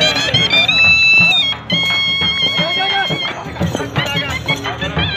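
A horse dances at an outdoor event to loud music, with hoof clip-clops and occasional whinnies mixed into the busy, continuous soundscape while people talk.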